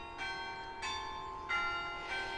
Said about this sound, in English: our bells have rung out every Sunday to remind everyone the church is still here